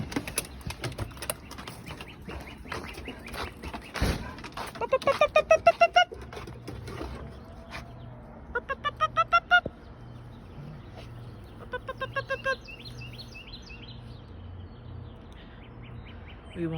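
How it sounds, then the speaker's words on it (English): Birds call outdoors in a yard with chickens and ducks, bursts of rapid quacking and squawking with wingbeats, several repeated call series at moderate distance, while a person speaks now and then. "And the birds are crazy today."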